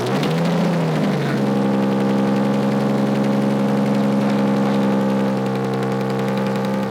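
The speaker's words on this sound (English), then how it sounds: "the reason it's still making the exhaust leak noise is because I think it warped a little bit" An engine idles with an exhaust manifold leak after a warped-manifold repair, a loud steady drone with a rapid ticking puff layered over it, briefly dipping in pitch before settling into an even idle.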